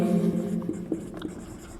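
A pen writing on paper during a maths lesson, with soft scratchy strokes and a few small taps, quiet and close, over a low steady hum.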